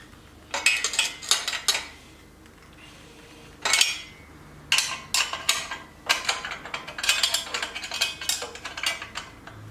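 A spanner tightens the exhaust nuts on a 1950s Vincent Nor'vin motorcycle, giving bursts of close metallic clicks and clinks with short gaps between them.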